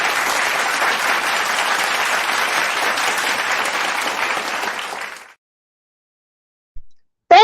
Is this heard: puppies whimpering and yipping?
no